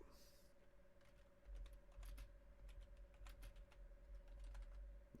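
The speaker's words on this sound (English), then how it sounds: "Yeah, I know my keyboard is incredibly loud." Rapid clattering keystrokes on a loud computer keyboard, irregular bursts of clicks over a low hum, with faint talk underneath.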